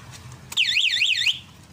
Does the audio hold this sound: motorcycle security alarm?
yes